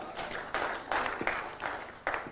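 A short burst of crowd applause, many hands clapping steadily at moderate loudness, with no speech over it.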